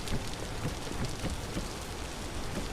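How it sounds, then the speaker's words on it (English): Steady, dense rain pours down in the Vintage Story video game, a loud continuous hiss with faint patter throughout and no other sounds. "I just want to get rid of this loud rain noise in my ear."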